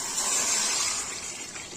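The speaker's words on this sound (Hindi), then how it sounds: "और इसमें डाल देंगे पानी।" Water poured from a glass into a pan of dates and dried apricots set over a flame, a smooth continuous close gushing hiss for under two seconds.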